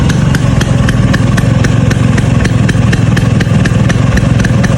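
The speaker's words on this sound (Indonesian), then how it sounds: "Mesin gearing siap touring, masih stasioner." A 2001 Vespa Exclusive scooter engine idling: a loud, steady, close putter with a rapid, even ticking rhythm that stays constant throughout.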